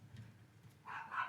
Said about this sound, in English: If you can hear my dogs in the back.